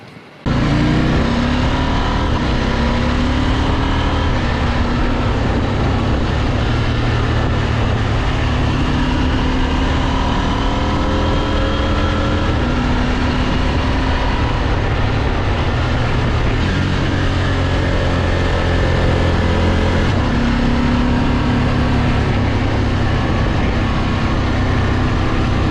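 A KTM Duke 890 R motorcycle engine runs continuously while being ridden on country lanes, its steady, loud drone shifting in pitch as the rider speeds up and eases off for nearly the whole clip.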